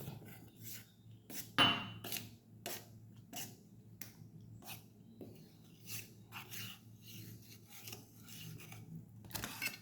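Ragi flour stirred into a cup of water in a bowl until lump-free, soft repeated scraping and rubbing strokes close by, quiet and irregular, with one sharper knock.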